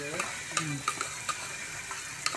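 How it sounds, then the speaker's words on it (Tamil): Ginger garlic paste sautéing in a pan for mutton biryani, giving a soft steady sizzle with a few light stirring clicks and taps spaced through it. "இஞ்சி பூண்டு நல்லா வதங்கிருச்சு"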